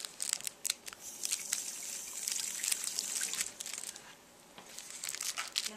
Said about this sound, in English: I'm going to rinse out the toothbrush.